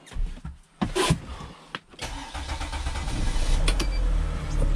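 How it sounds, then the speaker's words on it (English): A 2010 Mercedes Sprinter van engine cranks and catches, then settles into a steady idle after a few clicks and short bursts of mechanical noise. "we're going to get this vehicle started."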